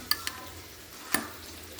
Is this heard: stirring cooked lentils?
yes